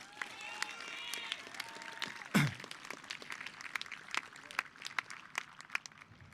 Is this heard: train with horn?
no